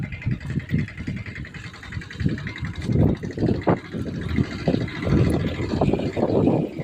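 A tractor engine loaded with wood runs steadily at close range, a low rumbling idle with uneven chugging pulses and no voices over it.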